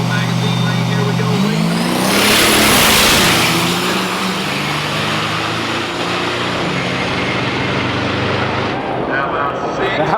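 Diesel trucks drag racing at a fall truck jam roar loudly and rise in pitch as they accelerate down the track, with a sustained engine drone. An announcer talks over the engines throughout.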